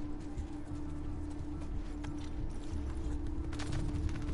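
Horse hooves clip-clopping in Assassin's Creed, a steady rhythmic trot under a constant droning game background, moderately loud and continuous with no talk.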